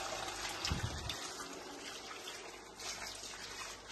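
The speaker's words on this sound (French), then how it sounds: "je mets de l'eau dans notre casserole" Water runs and splashes steadily into a saucepan, a continuous close trickle with a few louder gurgles.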